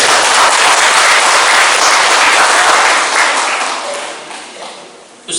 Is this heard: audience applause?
yes